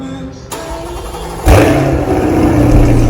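A 2021 C8 Corvette convertible fitted with a straight-pipe high-performance exhaust and high-flow cats fires up loud and close, a sudden deep roar that holds as a rumbling, revving idle.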